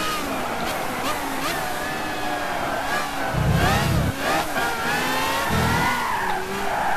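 Honda HSV race car in Gran Turismo 5, driven without traction control on cold hard racing tires: a loud, high engine whine that rises and falls between gear shifts, with tire squeal and brief low rumbles.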